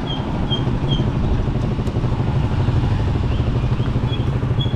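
A Honda Supremo motorcycle cruises along a national highway after new parts were fitted, its engine giving a steady, continuous drone close by with road rumble and no break in the sound.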